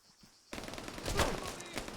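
Machine gun fire in Arma 3 erupts after a brief quiet start, a dense rapid fusillade of shots with a louder burst in the middle, continuing to the end.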